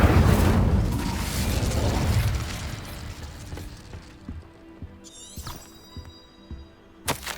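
A fire spell cast in Hogwarts Legacy gives a loud, broad whooshing burst that rumbles and fades over several seconds, followed by scattered smaller pops and a bright crackling flare near the end.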